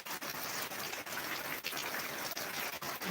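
Heavy rainwater gushes through a mesh screen down into a borewell being recharged, a dense, loud, continuous splashing rush with brief dips, near and without speech.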